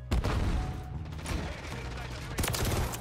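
Rapid bursts of gunfire in Call of Duty Modern Warfare 3 ranked play, loud and close, with a dense volley at the start and another near the end amid mechanical clatter.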